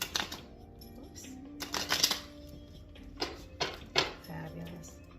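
A deck of playing cards being shuffled and handled, with short riffling bursts and soft slides separated by pauses, close up and moderately loud.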